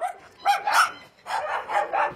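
A dog barks in two quick bursts of several yelping barks close by, fairly loud and clear with no voices.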